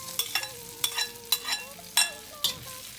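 Chorizo frying in a paella pan, stirred with a utensil in repeated scraping strokes over a steady, close sizzle.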